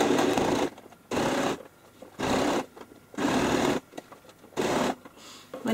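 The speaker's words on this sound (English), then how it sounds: "If you've pinned properly, it's so easy to sew this base." A sewing machine stitches the base of a handbag with leather handles, running in four or five loud close bursts of fast whirring separated by short pauses.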